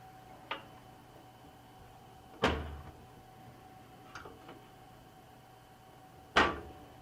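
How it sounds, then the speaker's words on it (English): A side door panel on a Phanteks Evolv X computer case closing, heard as a few sharp knocks and clicks with a louder thud near the middle and another at the end, close by in a quiet room. "We'll close this door."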